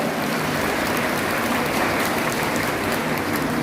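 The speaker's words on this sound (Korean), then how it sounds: "박수 해주시고요" An audience at a district sports association ceremony applauds as council members are introduced, a dense, even roar of clapping that holds steady throughout like heavy rain, with no voices on top.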